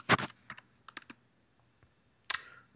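Keys clack on a computer keyboard in short, uneven bursts: a sharp cluster at the start, a few scattered single taps, and a final flurry, all close and fairly quiet with no voices.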